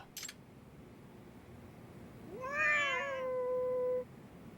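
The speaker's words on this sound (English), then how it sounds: "That's weird that you did 2 different meows at the same time" A cat meows in the video game Lost Judgment, a single drawn-out call that rises and then holds steady for over a second, heard alone over a low background hum.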